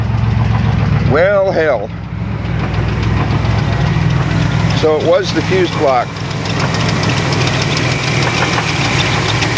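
A 1994 Chevrolet Astro van engine runs steadily after a no-start fix, a loud continuous idle rumble with knocking vibration filling the whole stretch while someone talks over it at times.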